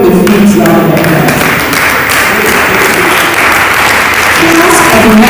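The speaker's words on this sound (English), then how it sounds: "Can we give them a huge round of applause?" A loud, dense crowd applause at a school gathering fills the space continuously, a close, roaring wash of many hands clapping together.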